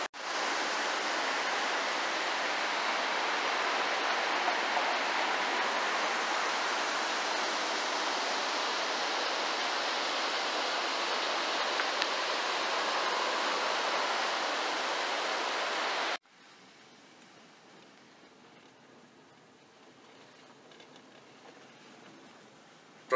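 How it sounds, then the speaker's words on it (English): Whitewater river rapids in Swain County, North Carolina, a steady broad roar of rushing water that cuts off abruptly to quiet outdoor background near the end. "We're here in Swain County, North Carolina, looking at the whitewater rafting spot"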